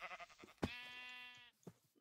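A sheep in the Minecraft video game gives one clear, drawn-out bleat, fairly quiet, after a short scuffle of game sounds and before a brief thump.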